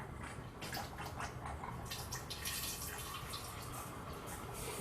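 Kangen water with a pH of 9.5 runs from a water machine into a container, a soft, steady pouring and dripping that stays fairly quiet and unbroken, with no talking.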